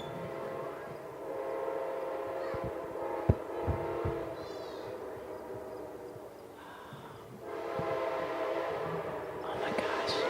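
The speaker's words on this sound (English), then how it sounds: "The train is coming, and it's coming when we're not playing a song for once." A train passing nearby with its horn blaring in sustained tonal blasts that swell and fade, rumbling rail noise underneath and occasional voices in between.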